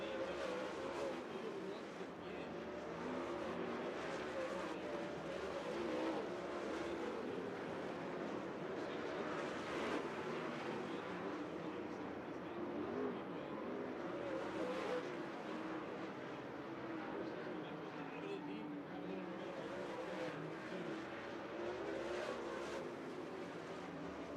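Race cars roar steadily around Thunderbird Speedway in an MLRA racing video game feature race, a dense continuous engine drone with overlapping cars throughout.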